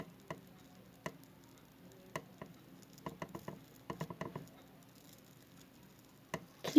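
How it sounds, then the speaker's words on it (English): White slime foam being squeezed and worked by hand gives off scattered soft crackling pops and small ticks, irregular and close, with quiet stretches between bursts and no talking. "Can you hear that foam?"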